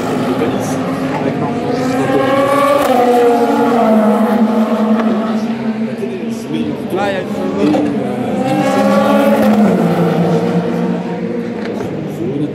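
Race car engine during Le Mans 24 Hours practice, its note climbing and falling through gear changes in steady sweeps, loud and continuous beneath a commentator speaking French.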